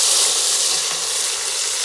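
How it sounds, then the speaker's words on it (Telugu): Onion and tomato frying in hot oil with cinnamon, cloves and mustard seeds, a loud, steady bright sizzle close up, continuous and without talk. "పట్ట లవంగా ఆవాలు వేగిన తర్వాత కొంచెం ఎర్రగడ్డ టమాటా వేసేసుకున్నాం"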